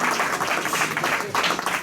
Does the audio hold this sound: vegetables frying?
no